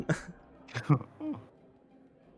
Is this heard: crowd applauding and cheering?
no